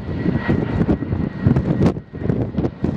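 A Delta Boeing 777-232ER airliner landing at Minneapolis airport gives a loud, steady engine roar with gusty rumble and wind buffeting, heard from nearby throughout with no talking.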